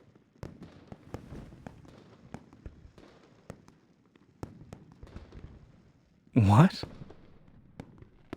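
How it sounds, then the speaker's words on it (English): A single video-game firework bursts loudly near the end, preceded by scattered sharp pops and clicks with a brief spoken exclamation. "The fireworks are too loud."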